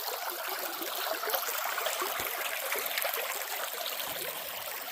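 A river stream runs over gravel beds in a steady, close, continuous rush, with a bright trickling texture and light splashes rising and falling throughout.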